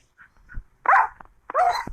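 Dogs barking in a video game set among village thieves: a couple of soft yips followed by two loud, close barks in quick succession, with no talk.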